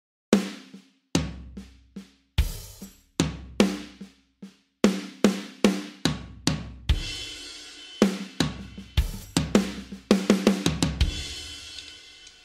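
Snare and floor tom trade strokes in a drum fill, sharp close hits in quick grouped bursts with short gaps, building denser toward the end, with no talking.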